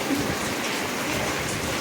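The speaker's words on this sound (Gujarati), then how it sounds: "તમે જોઈ શકો છો મુશળધાર વરસાદ પડી રહ્યો છે" Heavy downpour in a village, a dense, steady roar of rain hitting surfaces without a break, loud and close throughout.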